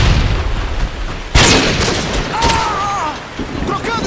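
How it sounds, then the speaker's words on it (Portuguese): A sudden loud boom from a flashbang grenade going off in a search-and-destroy shooter video game, followed by a ringing high whine. Game voice callouts sound around it. "Lançando uma granada de luz!"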